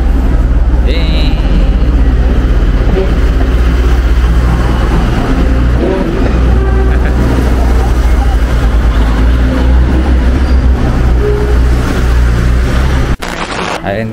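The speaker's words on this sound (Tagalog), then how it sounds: "The train." A train passing in northern Taiwan near Ruifang, a loud steady low rumble that fills the scene for about thirteen seconds and then cuts off sharply.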